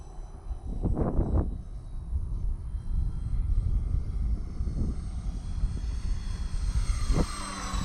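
An E-flite Valiant RC airplane flies in windy conditions, its propeller and electric motor droning steadily at moderate distance, with wind buffeting the microphone throughout.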